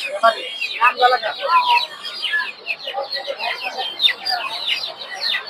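Tiger chicken chicks at a poultry market cheep and cluck in a busy, close chorus of rapid high peeps that run continuously, with market voices mixed faintly beneath.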